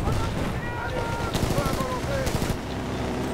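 Gunfire from a small pistol in Battlefield Bad Company 2 cracks in a few quick shots over dense game noise and chatter, while someone speaks over it.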